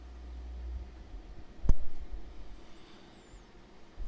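A single sharp click from the focus switch being flipped on a Blue Spark Digital microphone, close and brief against a quiet low rumble, followed by faint handling noise.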